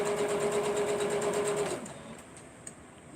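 A sewing machine runs steadily with a fast, even mechanical whir, stops near the middle, and leaves a quiet room with a few faint clicks after it.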